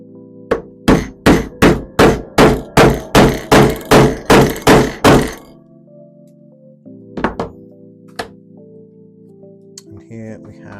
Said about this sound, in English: We're going to try our best to keep it straight as we can, and then we're going to hammer that through.